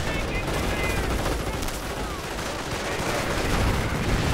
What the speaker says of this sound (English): Lots of bullets going across the battlefield.